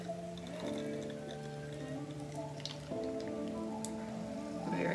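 Soda water is poured into a whisky and chamomile tea cocktail, with soft fizzing and dripping under a steady background hum, quiet and close.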